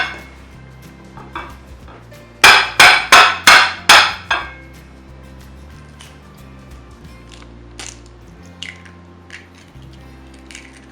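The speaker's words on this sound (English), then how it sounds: "So I have my eggs cracked." Two eggs crack against a plate in the kitchen, a quick run of six sharp close taps and knocks, followed by quieter scattered clinks and handling sounds with no talking.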